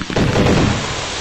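An indoor firework goes off in a single sharp, loud blast that rumbles briefly and then trails into a dense, hissing, crackling wash.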